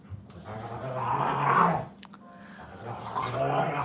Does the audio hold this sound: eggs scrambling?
no